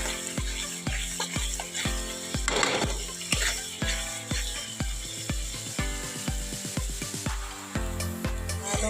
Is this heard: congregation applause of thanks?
no